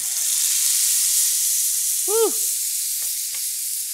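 Ingredients for a quail egg and chicken vegetable soup are stir-fried in a pan, giving a steady broad sizzle with faint stirring scrapes and a brief clink near the middle.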